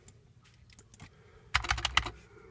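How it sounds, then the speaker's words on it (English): Keys clack on a computer keyboard, first a few scattered soft taps, then a quick, louder burst of close keystrokes near the end. "Let's type in random.org."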